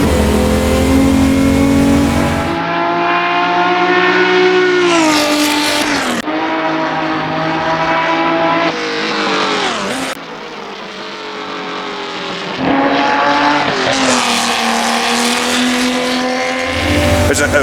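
Racing car engine sounds from a World Sportscar Legends car in the game Assetto Corsa, loud and sustained, revving up and down through gear changes with harmonic engine whine and brief lifts between shifts.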